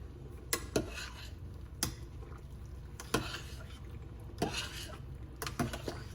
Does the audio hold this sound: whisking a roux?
yes